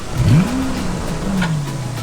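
A car engine in the video game A Dusty Trip revs up, climbing quickly in pitch, holding briefly and then easing down, loud and alone over a faint background hiss.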